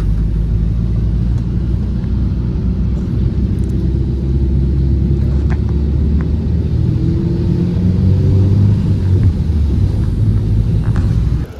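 Heavy road traffic on rain-soaked, flooded streets in Baku, a continuous low rumble of passing vehicles with a few faint clicks, steady throughout.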